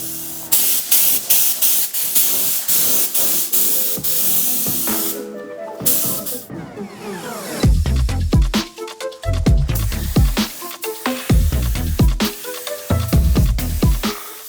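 Inexpensive Amazon paint spray gun laying coats of paint onto car doors of a Porsche 997 Turbo race car in a garage, a loud steady hiss of spraying broken by brief pauses and clicks between passes.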